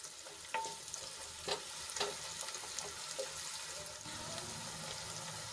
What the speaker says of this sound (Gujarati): ડુંગળીને આપણે ગુલાબી રંગની થાય ત્યાં સુધી ઢાંકીને ચડવા દઈશું